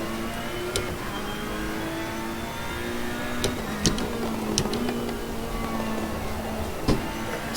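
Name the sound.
racing car engine revving in a sim racing video game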